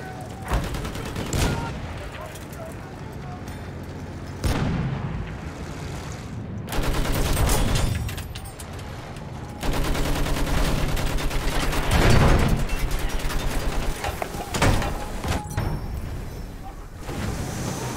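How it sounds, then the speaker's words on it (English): Mortar shells strike around the player in the video game Battlefield 1 during a battle involving a landship, with loud booming impacts and bursts of gunfire coming in waves, some heavy clusters, under the general din of combat. "Is that mortar hitting me?"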